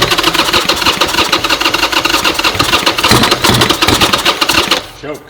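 A totaled Harley-Davidson motorcycle engine runs loud and close with a rapid, uneven chugging beat, then cuts out abruptly near the end.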